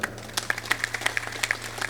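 Audience members clap in a brief burst of applause at a devotional gathering, the claps sharp, fairly close and irregular over a steady low hum.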